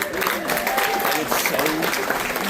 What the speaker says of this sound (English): Another round of applause for Noah, everybody.